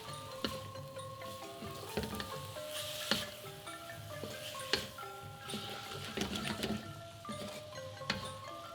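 Pork and shrimp cook together in a pan for natang, a quiet sizzle punctuated by light clicks and taps of a utensil, with a soft tonal hum running underneath.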